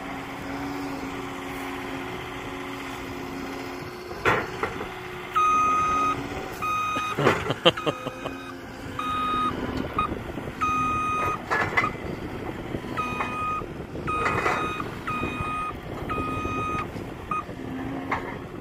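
A skid steer with bent forks works in a field, its engine rumbling and clanking while a series of regular reversing beeps repeats through the middle and later part, fairly close and without talk.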